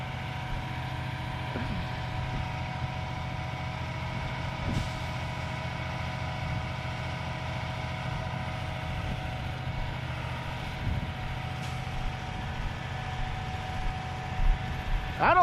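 A truck engine runs steadily and keeps revving while stuck at a boat ramp being built, with a low continuous drone and occasional louder surges, no voices.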